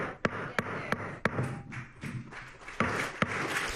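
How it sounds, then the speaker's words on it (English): A gavel strikes repeatedly at a school board meeting, about ten sharp raps in an uneven rhythm over a murmuring room, moderately close. "She's slamming her gavel"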